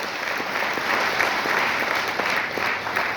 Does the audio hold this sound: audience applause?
yes